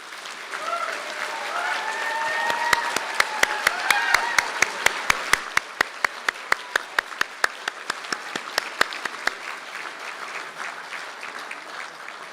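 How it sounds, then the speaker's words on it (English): Marketing and Sales Honours graduates at a Galway conferring ceremony receive applause, a sustained crowd clapping with a few voices, and one loud nearby clapper beating a steady rhythm through most of the stretch. "I'd like to ask the graduates of the class Marketing and Sales Honours degree to stand for a round of applause"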